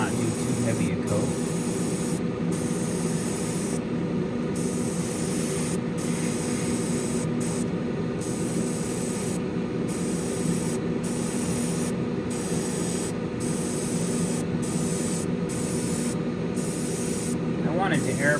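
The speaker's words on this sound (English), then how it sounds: "I wanted to airbrush this instead of brush painting it" Airbrush spraying black paint onto a masked dashboard of an AMT 1967 Impala model car, a steady hissing rush of air running continuously with brief regular interruptions in the highest hiss, close to the microphone.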